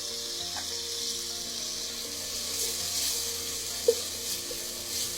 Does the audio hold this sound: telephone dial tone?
no